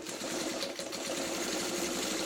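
A sewing machine runs steadily, stitching binding onto a simple quilted tote bag, a continuous even whir at close range with no talk.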